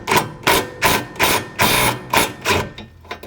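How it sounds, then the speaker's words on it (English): A hammer strikes a badly corroded rear suspension bolt on an NB Mazda Miata: about seven sharp metallic blows land in a steady rhythm, close and loud, with no talking. "that bolt did break off when I tried to hit it"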